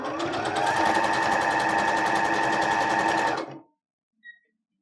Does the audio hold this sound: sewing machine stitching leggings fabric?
yes